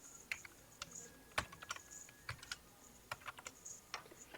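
Someone types code on a computer keyboard, striking keys in short irregular bursts with one louder keystroke standing out, close and fairly faint, with no talking.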